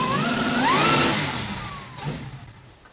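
A supercharged big-block Ford Crown engine revs hard, its pitch sweeping up and back down during a trans brake check, then dropping away to a quieter idle with a brief blip near the end, heard alone.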